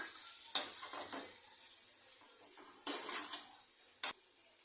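Okra curry, Telangana-style bendakaya pulusu, stirred in a pot on a low flame: a few scraping, clattering strokes of a spoon against the metal over a faint simmering sizzle, with no talking.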